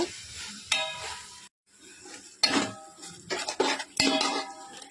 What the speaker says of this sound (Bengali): এবার আমি গাজরটা দিয়ে দিলাম, একটু নাড়াচাড়া করে নেব